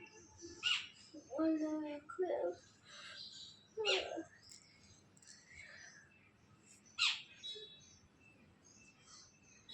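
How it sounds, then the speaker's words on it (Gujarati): Small birds visiting a home in the morning to eat grain, giving scattered short chirps and calls over a quiet background, a few louder bursts near the start and middle. "સવારમાં જો પક્ષીઓ અમારા ઘરે દાણા ખાવા આવી ગયા છે"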